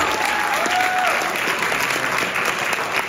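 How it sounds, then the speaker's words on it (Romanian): Steady, dense applause from the audience at a school freshman ball, continuous clapping from a large crowd, loud and sustained with faint voices mixed in. "Am aplauze!"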